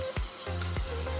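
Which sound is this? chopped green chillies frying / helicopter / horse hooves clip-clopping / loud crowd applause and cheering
chopped green chillies frying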